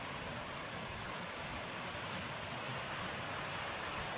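Ocean waves wash onto a beach in St Mary, Jamaica, heard as a steady, broad rushing surf that stays even and continuous with no distinct break.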